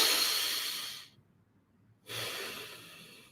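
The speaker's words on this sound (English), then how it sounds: "The exhale is very important for relaxing your body." Two long breath exhales during a guided relaxation session, each a soft, close, airy hiss lasting about a second, separated by a brief silent pause.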